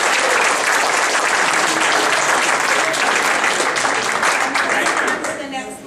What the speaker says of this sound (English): Let's give a round of applause to our two area governors, please.